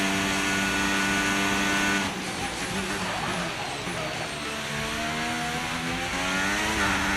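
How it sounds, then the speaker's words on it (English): A loud, steady engine drone with strong harmonic tones that shift in pitch partway through, a Formula 1 car revving and accelerating in the video game F1 25, heard alone. "I can hear better the car."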